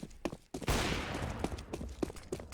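Burst of Counter-Strike gunfire fired through a wall on the Cache map during a competitive match, a loud sharp crack followed by a sustained rattling volley lasting about two seconds, with faint shot echoes afterward.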